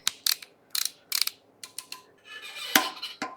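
A ratchet wrench clicking on a bolt of a Honda K24 engine during an engine build, close quick bursts of ratcheting clicks ending in a louder clunk.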